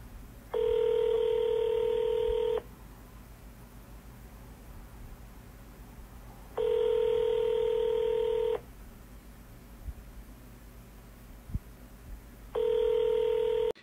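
Three repeating telephone ringback tones during an outgoing call, each about two seconds long and spaced roughly four seconds apart, steady and clear over a low background hum, with no voice.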